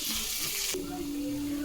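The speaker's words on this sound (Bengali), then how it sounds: "আলুগুলো ভাজা ভাজা হয়ে গেছে" Potatoes frying in oil in a pan in a home kitchen, a steady close hiss of sizzling throughout, with a brief clatter partway and a faint tonal hum afterwards.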